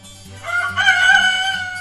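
A single rooster crow rises loud and close and draws out for over a second, with a steady low hum underneath.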